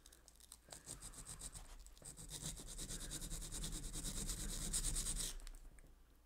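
Abrasive rubbing and filing on a small watchmaker's lathe part, trimmed and deburred during a Boley lathe chuck and tailstock restoration; steady, close scraping strokes building for about five seconds, then stopping.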